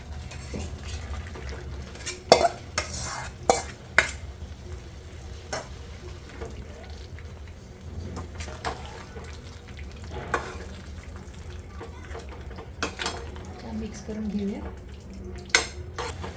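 Chicken pieces fry in cooked-down masala paste for a Maharashtrian chicken rassa, with a steady close sizzle, a spoon stirring through, and sharp clinks of the utensil against the pot throughout.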